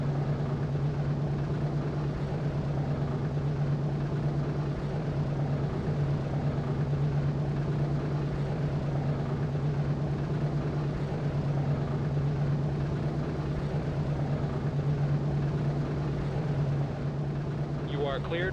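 The piston engines of a B-17 bomber drone in a flight game as it taxis toward the runway, a steady, loud and unbroken hum that holds with little change throughout.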